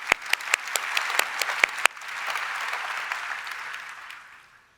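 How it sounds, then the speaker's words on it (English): An audience claps for volunteers at a talk, the applause opening with a few sharp, loud individual claps and swelling into steady, dense clapping that fades out over a few seconds. "Big round of applause, by the way,"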